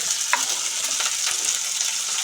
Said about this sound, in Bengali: এবার বিনসগুলো একটু নাড়াচাড়া করবো